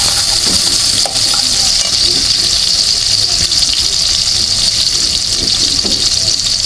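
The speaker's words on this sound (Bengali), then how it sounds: "আমি কড়াইটা বসায় দিচ্ছি এখানে পেঁয়াজ দিচ্ছি রসুন দিচ্ছি আর তোমার কাঁচামরিচ দিচ্ছি" Onion, garlic and green chilli fry in a wok with a loud, steady hiss that holds unbroken from start to finish, with no talking.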